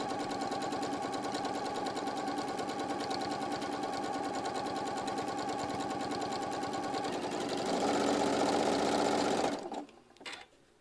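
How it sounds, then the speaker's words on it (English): A sewing machine runs steadily top stitching 1/8 inch around the edge of fabric, a fast continuous whirring hum that grows slightly louder near the end before stopping abruptly, followed by a few faint clicks. "we're just going to top stitch 1/8 of an inch all the way around"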